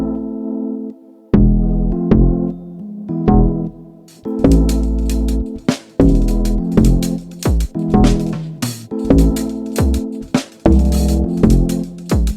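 Layered log drums drive a modern Afrobeat instrumental, with deep, punchy bass hits landing in a bouncy, syncopated groove over sustained chords and crisp percussion, starting sparse and then filling out after a few seconds.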